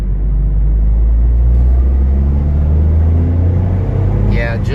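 A 2023 Toyota GR Corolla engine pulls from low revs with a steady, loud rumble that swells slightly, heard from inside the car.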